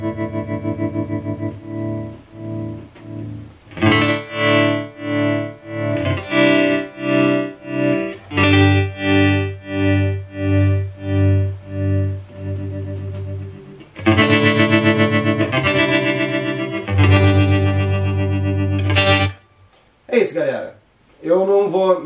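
An electric guitar plays through a Fender Champion 40 amp's built-in digital effects, giving loud chorded phrases with pulsing tremolo-like swells and a distorted, chorused tone, ending in a few short choppy stabs.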